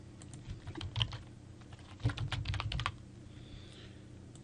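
Someone types a password on a computer keyboard: quiet, close keystrokes come in two quick bursts of clicks, with a brief pause between them and no voice.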